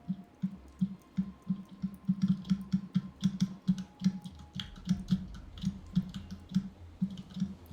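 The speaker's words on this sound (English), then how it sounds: "So everyone knows that you have a mechanical keyboard" Mechanical computer keyboard typed on steadily, a rapid run of close, crisp key clicks in irregular bursts, fairly quiet with no talking.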